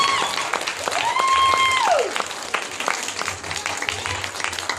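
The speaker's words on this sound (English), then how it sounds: "Keep clapping. Keep clapping." An audience claps steadily at an award event honoring a magazine cover, with dense clapping throughout while a sliding tone from a microphone or instrument rises and falls in the first two seconds.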